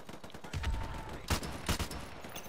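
Gunfire from the video game Call of Duty: Modern Warfare Remastered: a few sharp, fairly faint shots and short bursts spaced irregularly over a low game background, with no speech.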